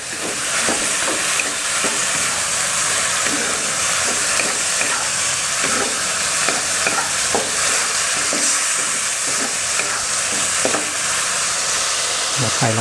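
Minced pork stir-fried in a pan for spicy larb, a constant loud sizzle with frequent spatula scrapes and knocks in an irregular rhythm, close up and continuous.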